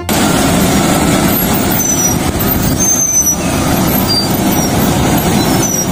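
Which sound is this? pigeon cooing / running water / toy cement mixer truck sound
toy cement mixer truck sound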